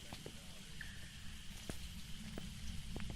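Steady rain falls in the game Phasmophobia, a soft continuous hiss with scattered faint drip ticks and a low, quiet rumble underneath.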